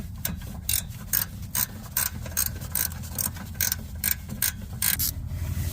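A ratcheting box-end wrench clicks rapidly and steadily up close while working on the rear brake of a Hyundai Sonata, with rhythmic bursts of ratchet ticks over a low background rumble.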